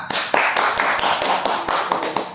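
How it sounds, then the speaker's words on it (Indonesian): Schoolchildren clap together in a primary classroom after group work, a close, uneven patter of hand claps with sharper accents scattered through, no voices over it. "Tadi yang berkelompok, kita tepuk tangan untuk kita semua"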